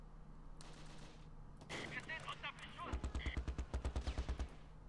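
Gunfire in Close Combat Last Stand Arnhem: a few scattered shots, then a rapid, evenly spaced burst of automatic fire, heard at a moderate distance against low battlefield ambience.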